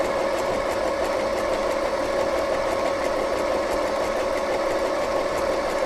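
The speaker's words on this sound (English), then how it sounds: "When the machine is running, you just need to hold the fabric" An FHSM-519 sewing machine runs steadily, a loud, even, rapid mechanical whirring and stitching hum that continues unbroken, with no voices.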